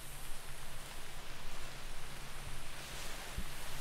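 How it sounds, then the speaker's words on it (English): Rain in the hunting video game theHunter, a dense continuous hiss of falling rain at a fairly even level, with a low steady hum underneath and one brief thump near the end. "Got the rain coming in."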